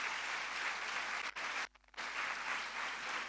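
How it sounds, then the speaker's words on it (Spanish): Church congregation claps for the Lord during a Spanish-language worship service, a steady burst of applause that drops out briefly near the middle before resuming just as full. "¿Por qué no dan un aplauso al Rey de Reyes,"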